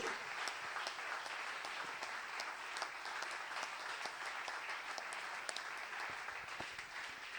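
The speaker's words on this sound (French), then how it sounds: "Honorons la parole de Dieu par nos acclamations." A church congregation at a Sunday service applauds steadily and fairly loudly throughout, a dense wash of many hands clapping without pause.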